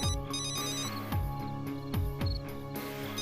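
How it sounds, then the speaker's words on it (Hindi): A telephone ringtone plays loudly and continuously, a repeating electronic melody with a thumping beat and no voices. "काफी देर से ये फोन बज रहा है"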